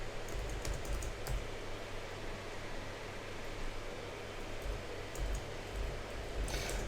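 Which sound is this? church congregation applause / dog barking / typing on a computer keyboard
typing on a computer keyboard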